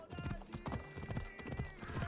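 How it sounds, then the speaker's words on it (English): Horse hooves galloping in the video game Assassin's Creed Odyssey, a loud rhythmic clip-clop of repeated hoofbeats with occasional whinnying and a steady game tone running underneath. "Can you hear me over the friggin' horse hooves?"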